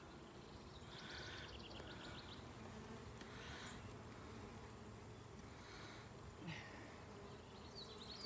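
Honeybees buzzing around an open hive on a humid summer day, a dense steady hum holding the whole stretch with a few individual bees droning past close by.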